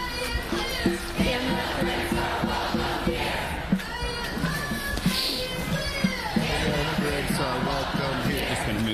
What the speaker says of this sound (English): A massive, massive crowd.